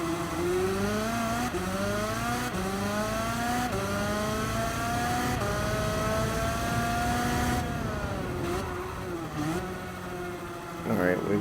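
A race car engine in Gran Turismo 7 revs hard through repeated gear shifts, each rising whine dropping sharply at the change before climbing again, loud and close, with a voice talking over it.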